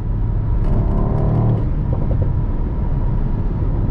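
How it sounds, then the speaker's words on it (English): Mercedes-AMG SL63 downshifting on the autobahn, a loud engine roar with a burst of rising blips and crackles partway through, then a steady drone, heard close with no talk. "Another downshift for you. Oh yes, proper AMG symphony."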